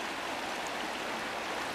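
Fast-flowing river water runs steadily in a continuous, even rushing wash, moderately faint and uninterrupted, with no voices.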